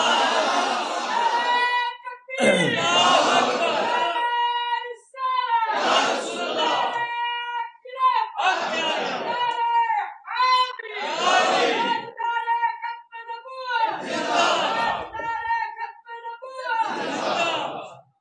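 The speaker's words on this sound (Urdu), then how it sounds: "نعرے تھوڑے کم لگائیں" A large crowd at an Eid Milad un Nabi religious gathering chants slogans loudly in unison, call and response in regular bursts of about two seconds separated by short pauses, echoing in a big space.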